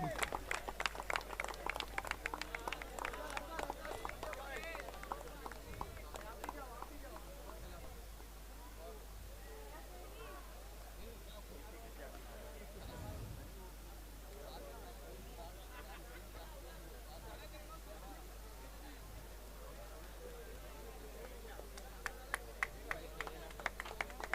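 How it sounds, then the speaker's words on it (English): At a football tournament prize ceremony, the audience claps in a burst at the start and again at the end, with quieter crowd murmur and distant noise in between, all fairly faint. "Keep clapping. Keep clapping."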